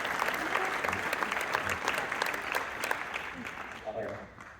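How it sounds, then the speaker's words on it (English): An audience at a school symphonic band concert applauds steadily for several seconds, a dense patter of clapping that fades slightly toward the end. "Can you give them one more round of applause?"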